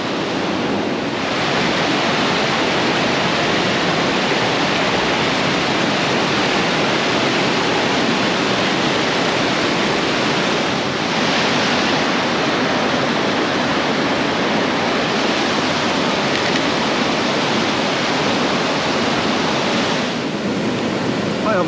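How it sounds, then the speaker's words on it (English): Loud, steady roar of the rushing River Prosen in Scotland, a continuous broadband wash close to the listener with no pauses. "the water is really pretty noisy"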